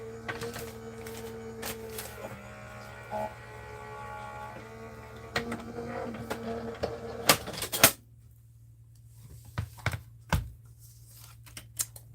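An electric die-cutting machine for card making runs with a low mechanical hum and whirring, followed by a few sharp clicks and knocks as it stops. The sound is moderately faint and heard alone.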